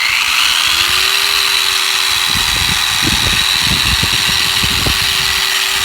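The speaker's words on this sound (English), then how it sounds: "now I'm gonna get ready here and grind away." Power tool pad grinding rust off the driveshaft of a 1965 Dodge D500 truck, a steady high whine with intermittent scraping bursts as the pad bites the rounded metal, no talking.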